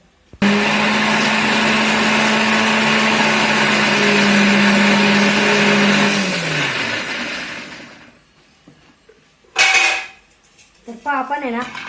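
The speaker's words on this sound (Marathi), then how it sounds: "थोडा थोडा करून आपल्याला सगळा रस मिक्सरमधून काढून घ्यायचा आहे" A mixer grinder whirs loudly and steadily as it blends mango pulp into thick aamras, then spins down and stops; a clatter and some faint kitchen sounds follow in the quieter tail.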